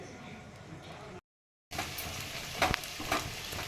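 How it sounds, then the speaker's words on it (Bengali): Milk boiling in a pot while being stirred to thicken makes a faint, soft bubbling and scraping hiss, briefly cut to silence, then resuming with a few clicks of the spoon and a voice in the background. "দুধটা আমি এবারে ভালো করে ফুটিয়ে ঘন করে নেব একটু।"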